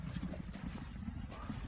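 Horse hooves clip-clop faintly at a racing stable or track with a jockey, a soft, steady rhythm of low thuds under quiet background noise.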